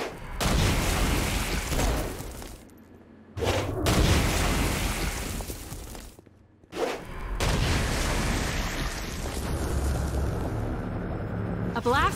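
Heavy Stone Blast explosions against demons in Saints Row 4 land as loud, broadband booms, in two long rumbling bursts broken by brief near-silent gaps.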